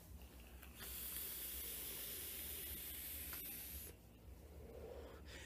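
A long, soft hiss of e-cigarette vapour from a 70/30 e-liquid being exhaled lasts about three seconds and then stops abruptly, leaving quiet room tone.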